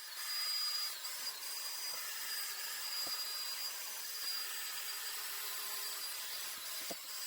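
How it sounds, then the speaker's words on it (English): A wire wheel spun by a drill scrubs corrosion off aluminum on a 2009 Saturn Vue front wheel bearing job, giving a steady, gritty broadband hiss that runs throughout with a few faint clicks and no talking. "Mongo likes to get a wire wheel on a drill here and just clean up some of this corrosion."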